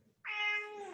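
A cat meows once, a clear drawn-out call that starts abruptly and fades slightly toward the end, close and alone with no talk.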